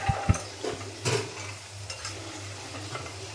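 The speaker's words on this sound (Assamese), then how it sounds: "এতিয়া ধুনীয়াকৈ মটৰখিনি অকণমান দেৰি ভাজি ল'ম ভালকৈ" Raw green peas fry in spices in a pan while a spoon stirs them, soft sizzling under scattered scraping and tapping knocks of utensil against the pan.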